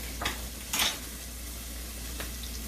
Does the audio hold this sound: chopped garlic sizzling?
yes